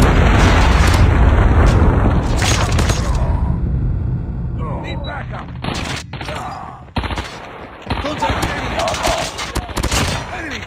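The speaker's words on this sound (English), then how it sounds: "Friendly predator missile inbound." Loud battle din in Call of Duty Mobile with a predator missile strike: dense booming blasts and gunfire in the first seconds, then scattered sharp impacts and bursts as the fighting thins, with game voice callouts over it.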